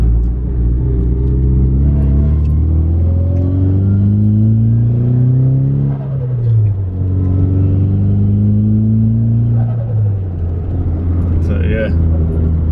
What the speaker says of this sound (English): A bit of a flutter for you guys, seeing as I forgot it last time.